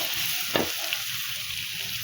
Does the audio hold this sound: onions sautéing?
yes